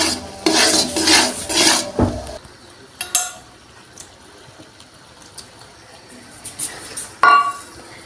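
Rice being stirred into melted jaggery in a pan on high heat for rice naru, a loud scraping and stirring burst up front, then quieter scattered clinks and scrapes, one sharp knock near the end.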